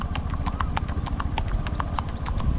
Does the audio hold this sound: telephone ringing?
no